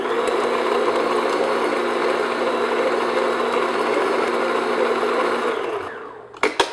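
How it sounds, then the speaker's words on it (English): An electric mixer beats unsalted butter in a bowl with a steady, loud whirring motor hum that runs continuously for about six seconds before cutting off, followed by a couple of brief knocks. "So I'm just going to beat that just until it gets nice and smooth."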